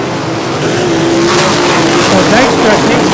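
Sprint cars roaring around the dirt oval at Ohsweken Speedway, a loud continuous engine drone with rising and falling pitch as cars pass, with a race announcer talking over it throughout.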